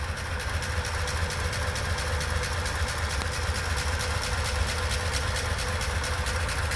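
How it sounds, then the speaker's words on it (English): 1939 Ford Deluxe 5-window coupe with a flathead V8 and a newer or rebuilt carburetor idles steadily and smoothly, a close, even low rumble that never misses a beat, with no talk. "The thing I love about these flatheads is how quiet and smooth they run."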